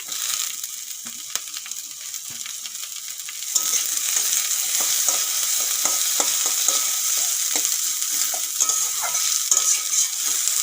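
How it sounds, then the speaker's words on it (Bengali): Tomatoes and capsicum fry in a pan for egg chow mein. A soft sizzle jumps to a louder, denser hiss partway through, with scattered light stirring clicks and no speech. "টমেটো দেওয়ার পরে একটুখানি ভেজে নিতে হবে"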